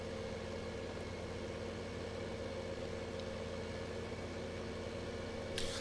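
Steady low engine drone of a tractor in Farming Simulator 15, a constant idling rumble that holds even throughout, with a faint brief rise near the end and no talk.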